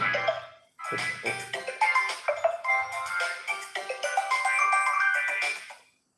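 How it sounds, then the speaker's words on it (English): A phone ringtone plays a bright, repeating electronic melody, loud and close, after a brief opening phrase and a short pause, then ending abruptly. "My phone is ringing without anybody calling me."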